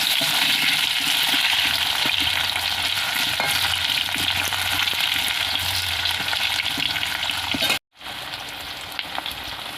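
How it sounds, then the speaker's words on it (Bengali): Pointed gourd and potato sizzle in hot oil in a pan, a loud, steady frying hiss close by with faint stirring, briefly cut off near the end before the sizzle resumes. "তো এটাকে লাল লাল করে ভেজে নেব।"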